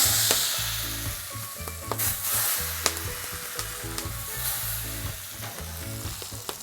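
Smoking hot oil hits eggplant for baigan choka, giving a loud, continuous crackling sizzle up close with sharp pops and spatters, then fading a little as it settles; no voices.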